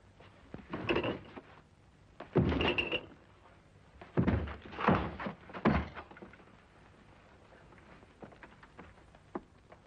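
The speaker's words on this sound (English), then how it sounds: "Force the door open." In a radio drama, heavy thuds and bangs as a door is forced open, a series of irregular blows spread over several seconds with quieter creaks and knocks between.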